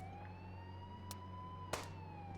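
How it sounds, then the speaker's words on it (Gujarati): A police car siren wails in the GTA 5 video game, a steady rising and falling tone fairly faint under a constant engine hum, with two brief sharp bangs. "ઓ ભાઈ બહારથી પણ પોલીસની ગાડી આવી ગઈ"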